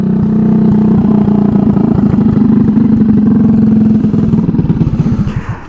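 A Honda Ruckus scooter with a GY6 engine runs with an open header pipe, a loud, raspy, close buzzing drone that holds steady and then eases off and sputters near the end.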